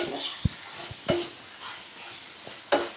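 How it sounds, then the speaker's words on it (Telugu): Tomatoes simmer in a pan for paneer curry, giving a low sizzle beneath a few distinct spoon knocks and scrapes against the pan, spaced irregularly and heard up close. No voices. "టమాటా మంచిగా దగ్గర ఉడుకుతుంది చూడండి"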